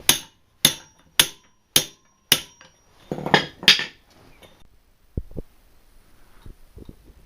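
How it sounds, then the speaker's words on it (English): A hammer beats sheet metal that has been cut about every inch around its edge, flattening and re-radiusing it for a chainsaw chop-saw conversion. Five sharp, evenly spaced ringing clanks come first, then a burst of heavier blows and scattered faint knocks. "Start beating it with a hammer."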